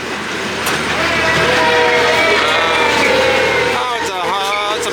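An amusement park train rolls through a tunnel with a loud, continuous rumble and rattle, wheel squeals rising near the end, while passengers' voices sound over it.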